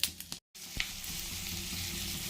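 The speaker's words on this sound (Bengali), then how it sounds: "ডিমের বড়া ভাজা তেলটাতে একটু জিরা ফোড়ন দিয়ে দিচ্ছি।" Cumin seeds sizzle in hot oil left over from frying egg fritters for an egg curry, a steady close frying hiss after a brief drop to silence, with a few small pops near the start.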